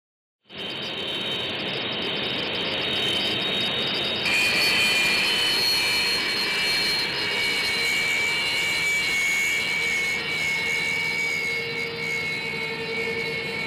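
Sukhoi Su-30MKI fighter jet of the Indian Air Force at Jodhpur air base, its engines roaring in a loud, sustained whine with a steady high-pitched tone over a broad rumble, no voices.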